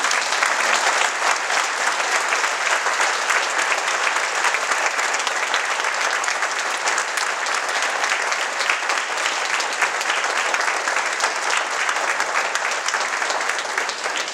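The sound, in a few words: audience applause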